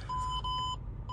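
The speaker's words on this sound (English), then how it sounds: "I don't want that annoying beeping." An electronic beeper gives repeated short, steady, high-pitched tones, loud and close over low engine rumble inside a car on a road trip, with no talking.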